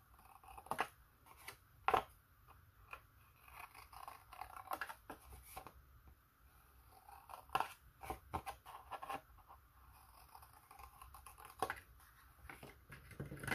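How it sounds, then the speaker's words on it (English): Scissors snip paper to round the edges of cut-out craft pieces, giving intermittent crisp cuts in uneven bursts with quiet gaps between them, close by and fairly soft. "we're going to take the scissors and round the edges"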